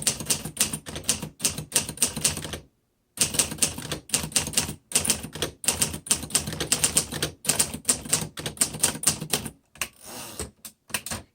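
A 1951 Remington Quiet Riter vintage manual typewriter is typed on rapidly at close range, giving bursts of crisp key strikes with brief pauses and a carriage movement near the end, with no talk.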